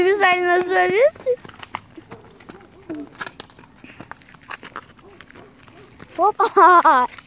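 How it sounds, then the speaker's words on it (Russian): Sheep come running up, with a loud close bleat at the start and another near the end, and quick hoof patter and brief speech in between. "Наши овцы прибежали."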